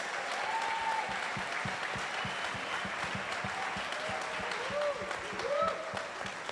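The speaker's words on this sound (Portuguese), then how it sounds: "Uma salva de palmas." A church congregation applauds a pastor's 20 years of ministry, a steady roomful of dense clapping that stays loud throughout, with voices and a few high calls rising over it near the end.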